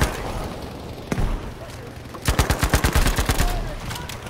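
Rapid gunfire bursts in the online shooter Battlefield V, a single sharp shot early on followed by a fast run of about a dozen evenly spaced rounds, loud and close against game ambience.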